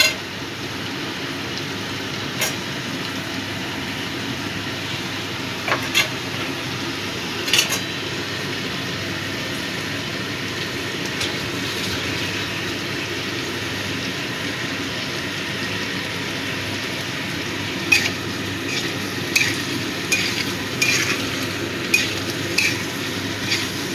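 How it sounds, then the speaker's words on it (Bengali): Salt being stirred into a chhana (cottage cheese) curry with tomato in a pan: a steady low sizzle runs throughout, broken by occasional light scrapes and clinks of a spoon against the metal. "নুনটা ভালো করে মিশিয়ে দিচ্ছি।"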